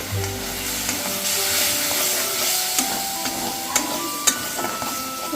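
Chana masala made without onion or garlic, stir-fried in a pan with a splash of chickpea boiling water added, gives a steady close sizzle with scraping spoon clicks and occasional sharp taps against the pan.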